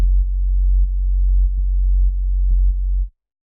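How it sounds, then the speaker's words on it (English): A deep sustained bass tone pumps rhythmically under sidechain compression in a music track, its level ducking and swelling about every half second for three seconds before stopping abruptly. "let me play a little example of where you guys can hear it pumping at"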